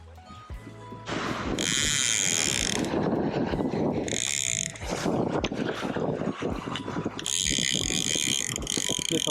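A fishing reel being wound to tighten the line after a cast from a beach sandbar while surf fishing for sharks in Panama City, Florida, with repeated close ratcheting clicks in bursts and steady surf and wind underneath.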